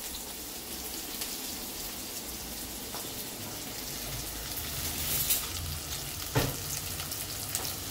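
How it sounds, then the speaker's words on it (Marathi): Chopped onion frying in a pan gives a steady, quiet sizzle that hisses evenly throughout, with a couple of faint clicks and pops near the end. "3 चमचे साधारण मी कांदा टाकलाय."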